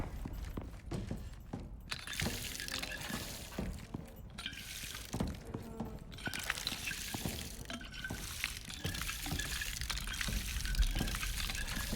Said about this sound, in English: So the water I'm putting in the thermos, ironically, is going to be the nasty water that I should not drink.